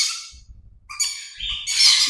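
A crimson-bellied conure gives harsh, close squawks in a few short rough bursts with brief gaps, ending in a longer grating call.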